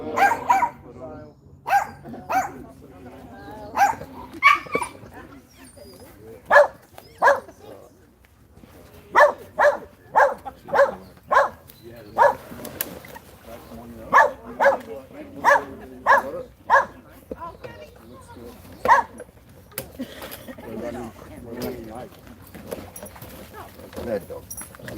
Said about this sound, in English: Mad dog.